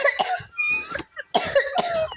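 Someone coughs in several harsh bursts, a cluster of rough coughs, a brief pause, then two more, close and loud.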